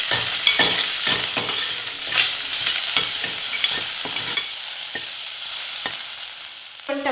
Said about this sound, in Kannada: ಕಟ್ ಮಾಡಿರುವಂತಹ ಈರುಳ್ಳಿ, ಇದನ್ನು ಸ್ವಲ್ಪ ಮಿಕ್ಸ್ ಮಾಡ್ಕೊಳ್ಳೋಣ.